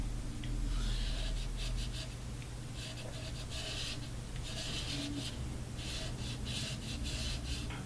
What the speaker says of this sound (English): and then hand sand the edges